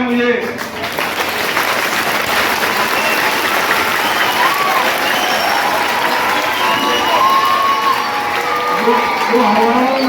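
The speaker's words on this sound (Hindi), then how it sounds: "बहुत जोर से तालियां चाहिए मुझे" A live audience at a motivational speaking event breaks into loud applause mixed with cheers and shouts, a dense, rousing roar of clapping and voices that stays strong throughout.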